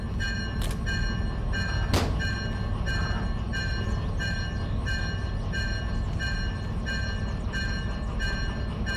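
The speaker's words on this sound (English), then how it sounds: "It's a hybrid. Diesel electric. Locomotives have been made like this for half a century." Diesel electric locomotive running in Derail Valley, a constant low engine drone and rumble with a steady tonal whine above it and a few sharp clanks, heard close and unbroken for the whole stretch.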